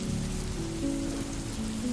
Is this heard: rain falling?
yes